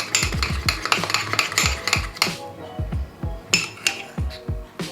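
A spoon stirs chocolate mug-cake batter in a mug for a children's recipe, making a rapid run of close clinks and scrapes against the ceramic, briefly pausing, then resuming in a steady rhythm with no voice.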